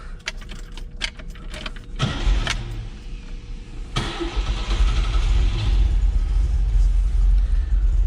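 A 1971 MG MGB GT, already warm from a recent drive, cranks briefly and fires up, its engine settling into a steady, loud running idle close by.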